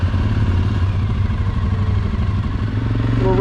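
Several ATVs ride out of a lakeside campsite near Atlanta, Michigan, giving a close, steady mid-pitched engine rumble with light clatter throughout and no talking.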